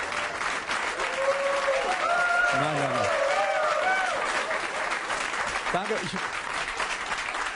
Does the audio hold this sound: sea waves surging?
no